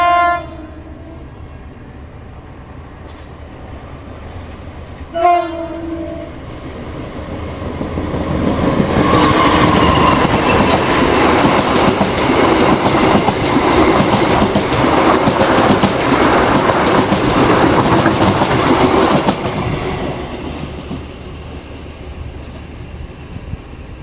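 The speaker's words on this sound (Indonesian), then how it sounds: "itu tadi kereta api Putri Deli melintas langsung stasiun Bahlias" The Putri Deli passenger train from Tanjung Balai, pulled by double-headed BB 203 locomotives, sounds two horn blasts and then roars straight through Bahlias station, loud and close with rumbling wheels and clickety-clack, before fading.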